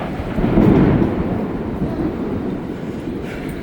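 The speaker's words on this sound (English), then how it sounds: "You hear thunder and you hear the lightning." Thunder rumbles during a huge thunderstorm over Chinatown in New York City, a loud, low rolling swell that peaks early and then settles into a steady, continuing rumble with no talking.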